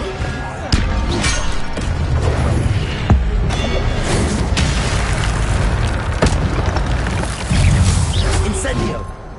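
Fire spells cast in Hogwarts Legacy on PS5 burst out as repeated booming whooshes, loud and close, between other spell effects, with a voice calling out incantations over the din.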